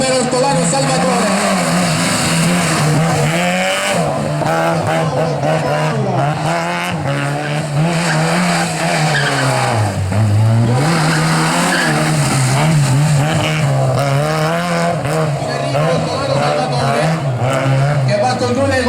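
A Fiat Panda rally car driven flat out through its final lap at a rally show, engine droning loud and steady as it shifts up and down, with tires squealing and skidding through the corners.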